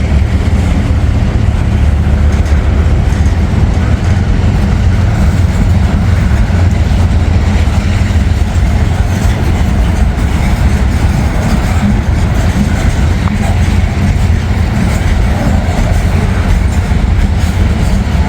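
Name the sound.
freight train locomotives passing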